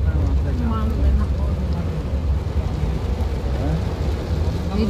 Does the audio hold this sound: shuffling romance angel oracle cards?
no